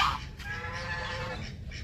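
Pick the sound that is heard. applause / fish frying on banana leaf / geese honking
geese honking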